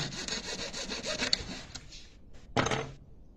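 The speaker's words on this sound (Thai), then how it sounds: "เลื่อยเข้าไป" A hand saw rasps back and forth in quick strokes through a metal ring, then pauses briefly before one last harsh stroke; close and fairly loud.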